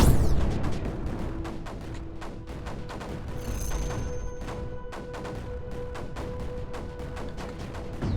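Sniper and missile weapons firing in the strategy game Creeper World 4, a dense run of sharp, rapid cracks and booms over a steady humming backdrop, with brief tonal whines mixed in throughout.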